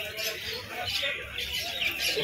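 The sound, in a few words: pigeons at Birnagar pigeon market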